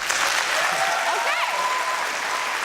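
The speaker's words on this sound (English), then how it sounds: "Clap." Studio audience at a GTIN2013 invention presentation claps on cue, a continuous wash of hand claps with a faint tonal sweep and some murmur underneath.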